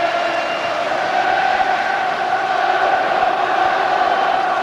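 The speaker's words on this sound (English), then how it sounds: "Well, the crowd there, still in full voice" Large football crowd of nearly 49,000 at Ibrox for the Kilmarnock v Falkirk Scottish Cup Final, singing and cheering in a steady, dense roar that holds at an even level throughout, no single voice standing out.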